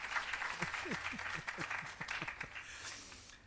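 Faint, scattered applause from a small audience at a public relations campaign launch for the Bureau of Standards Jamaica, thin and uneven, with voices murmuring over it.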